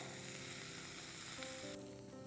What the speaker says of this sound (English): The ginger is getting nicely sauteed.